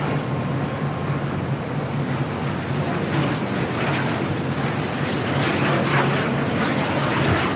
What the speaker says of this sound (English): Looks like the Eva Air Cargo 777 crossing over 25 left.